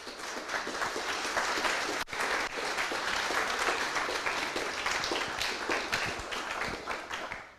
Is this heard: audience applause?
yes